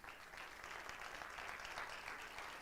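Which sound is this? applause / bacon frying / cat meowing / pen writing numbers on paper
applause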